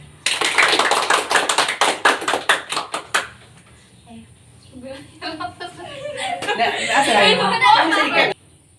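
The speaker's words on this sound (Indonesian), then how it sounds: "Beri aplaus kepada Adit" A class gives rhythmic applause for Adit, with steady, fairly close hand claps that fade out after about three seconds. Chuckles and voices follow, then a louder burst of chatter.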